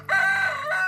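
A rooster crows on a countryside farmstead, one sustained, strained call held close and loud, its pitch dipping briefly before rising again near the end.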